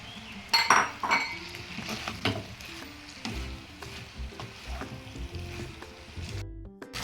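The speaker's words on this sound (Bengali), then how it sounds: "এবার ইঁচড়গুলো খুব ভালো করে কষিয়ে নেব" Jackfruit and potatoes stir-fried in a pan for a jackfruit-and-prawn curry, with a spatula clinking and scraping against the metal over a soft sizzle in irregular bursts, no talking.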